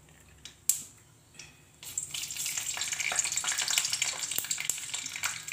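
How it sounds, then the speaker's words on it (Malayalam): Mustard seeds pop in hot oil in a pan while tempering for jackfruit thoran, a couple of isolated cracks followed by a dense, rising sizzle with rapid sharp pops, close and fairly loud. "കടുക് പൊട്ടി തുടങ്ങിയിട്ടുണ്ട്"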